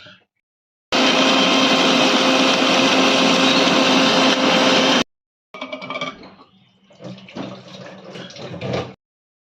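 An electric mixer grinds sour curd, cashews, mustard seeds and poppy seeds into a paste, with a loud, steady whirring roar for about four seconds. Rougher, intermittent grinding bursts follow after a short silence.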